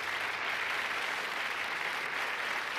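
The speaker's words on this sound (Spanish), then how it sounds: "Un aplauso para él" A crowd applauds a Chilean poet who claims to own the moon, steady dense clapping holding evenly throughout without any voices.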